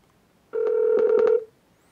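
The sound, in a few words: phone call ringing through Pioneer DEH-X4700BT car stereo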